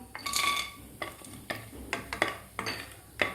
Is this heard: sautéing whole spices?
yes